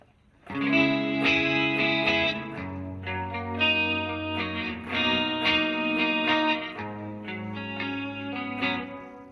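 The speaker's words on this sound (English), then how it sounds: "I like to use a clean boost whenever I use an actual amp" Clean electric guitar chords through Positive Grid BIAS FX with a clean boost, ringing out with a bright, slightly pushed tone, strummed in a slow sequence and left to sustain.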